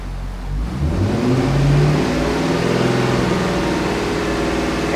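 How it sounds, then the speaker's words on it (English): A Chevrolet Corvette engine running lean with a P0171 code revs up as the gas pedal is pressed. It is a close, steady, rising engine roar lasting several seconds, with no talking. "I'm just stepping on the gas pedal."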